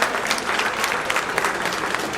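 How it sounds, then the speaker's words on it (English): Applause from a jazz lounge audience after a live trio's set, steady dense clapping filling the room at close range, with no voices over it. "Another round of applause for Samson,"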